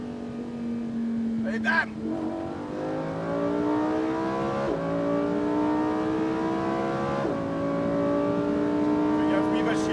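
A 640 hp Lamborghini Huracan Performante accelerates hard on the Fay de Bretagne race track, its engine note climbing steadily through the gears with brief dips at the shifts, loud and close, while someone talks over it in the cabin.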